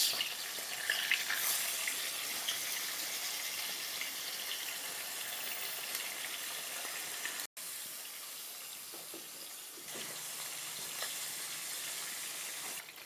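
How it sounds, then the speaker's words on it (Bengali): Chanda fish frying in oil in a wok, a continuous broad hiss of sizzling fat that holds steady, briefly cuts out, then resumes slightly softer, with no speech. "এবার আমি মাছগুলোকে একে একে কড়াইতে ছেড়ে দিচ্ছি"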